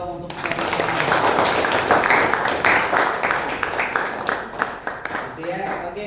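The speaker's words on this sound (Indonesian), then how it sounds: "tepuk tangan dong untuk" Sustained applause from a classroom full of people, many hands clapping densely and steadily for several seconds with some voices mixed in.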